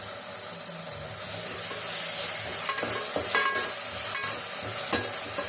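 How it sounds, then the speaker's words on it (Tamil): Onions and tomatoes sauté in a pan with a steady, close sizzle, while a spoon scrapes and stirs in occasional short strokes over the frying. "இந்த வெங்காயம் தக்காளி நல்லா வதங்கணும் பிள்ளைங்களா."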